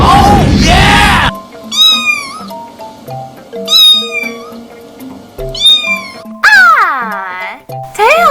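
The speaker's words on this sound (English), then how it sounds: "Tails, you can't stop meowing." A cat meows repeatedly, loud and close, in a series of drawn-out, rising and falling calls, one stretched almost into a caterwaul, after a short burst of noise.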